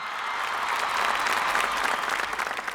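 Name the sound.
audience applause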